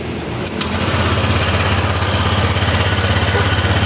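A Honda Click scooter fitted with a remote kill switch starts up after about half a second, then its engine runs in a steady, close, fairly loud idle.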